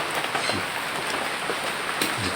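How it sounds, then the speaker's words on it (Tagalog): Heavy rain pours down steadily during a tilapia fishing outing, a dense close hiss of drops striking surfaces with no talking. "Malakas na naman yung ulan"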